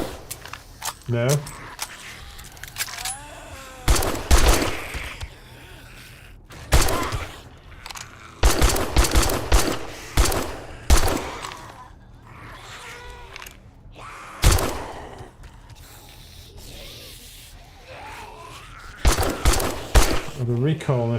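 Gunfire rattles in a zombie survival video game, with repeated bursts of sharp cracks and thumps in clusters separated by gaps, loud and close, while someone talks over parts of the action.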